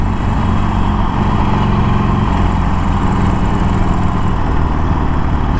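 A 2021 Harley-Davidson Iron Sportster 1200 rolls along with its engine droning steadily, loud and close, a dense unbroken rumble with no voices over it.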